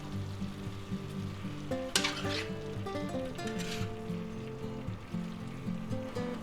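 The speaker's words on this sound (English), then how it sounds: "let's give that a light stir" A pepper steak stir fry with vegetables and mushrooms sizzles steadily in the pan while being stirred, with a soft scraping burst of the utensil midway over the constant frying hiss; music plays underneath.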